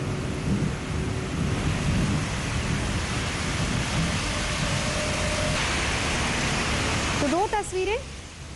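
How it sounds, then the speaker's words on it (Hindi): Heavy monsoon rain in Delhi pours as a dense, steady hiss. A brief voice-like warble rises near the end, and no distinct thunder clap stands out. "बारिश हो रही है, बादल जमकर बरस रहे हैं।"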